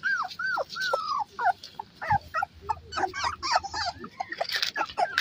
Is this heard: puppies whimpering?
yes